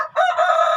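A chicken in a coop with brooding hens lets out one short, loud, close call, sharp and tonal, heard alone.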